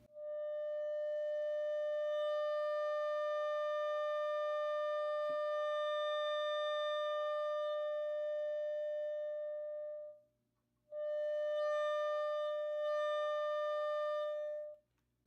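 A function generator's steady sine test tone played through a Heathkit T4 tube amp converted for guitar, a sustained pure hum with audible harmonics, breaking off briefly near the end before resuming.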